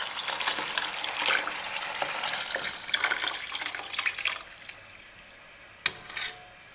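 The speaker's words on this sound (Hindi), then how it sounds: "अब इसमें हम दूध शामिल कर देंगे। दूध 2 लीटर ये इसमें शामिल कर देंगे।" Two litres of milk pour into a pot of cooked carrots for gajar kheer, a continuous splashing gush near the pot that thins out and ends. A single clank of metal follows at the end.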